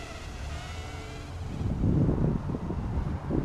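Strong gusts buffet the microphone outdoors, a deep rumbling roar that swells after the first second and stays heavy, with the thin whine of a tiny MDX80 brushless quadcopter running faintly underneath.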